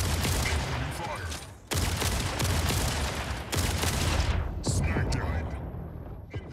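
Dense, loud bursts of rapid gunfire from battling mechs in the Mech Arena video game, sustained across the whole stretch with brief gaps, a game announcer voice cutting in over the shooting.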